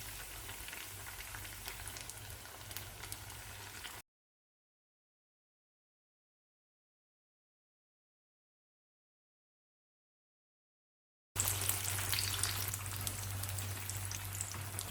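Qatayef fry in hot oil with a steady, hissing sizzle, faint and continuous, broken by a stretch of complete silence in the middle.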